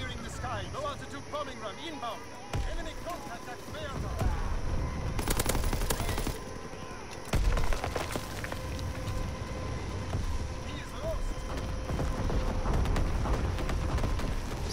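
Flak guns pound away in a video game battle, a dense rolling stream of heavy automatic bursts over a constant rumble of wind and engines, with people talking over the racket.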